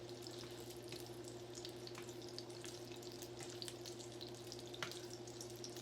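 Food sizzles quietly in a hot pan on low heat with a soft, steady crackle over a low electrical hum, broken by occasional sharper pops.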